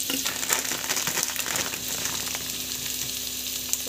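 Sliced onions frying in oil for biryani, a loud continuous sizzle and crackle with occasional stirring scrapes, close up and with no voices.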